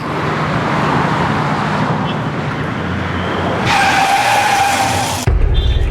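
A car turning sharply on a road, a sustained rushing skid with engine and road noise building, then a brief high tire squeal before cutting off abruptly into a low rumble.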